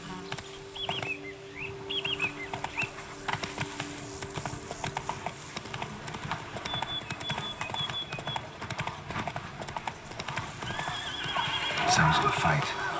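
A horse gallops in The Witcher 3 with rhythmic clip-clop hoofbeats and a whinny, over ambient bird chirps and wing flaps, with a brief louder burst near the end.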